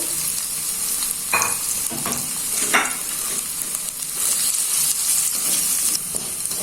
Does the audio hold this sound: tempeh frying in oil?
yes